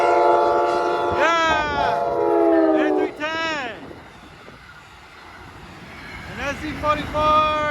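An Amtrak San Joaquin passenger train 714, heading southbound with a cab car and an SC44 locomotive, sounds its horn in several loud, falling blasts as it passes, then rumbles on between horn calls.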